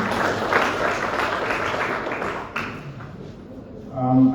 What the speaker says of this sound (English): I would like you all to clap for Mr. Tupe and the team for this very good initiative.